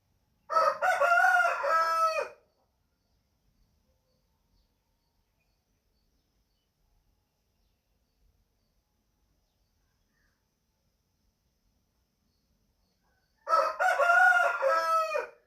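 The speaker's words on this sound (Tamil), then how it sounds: "அந்த கோழி வேறு கத்திக்கிட்டே இருக்குது" A rooster crows loudly and close by twice, each call a drawn-out cock-a-doodle-doo lasting about two seconds, with a long stretch of near silence between them.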